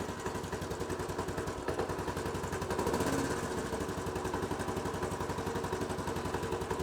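A motorcycle engine idles steadily during a home service, a close, even mechanical chugging with a brief swell near the middle, heard on its own without talk.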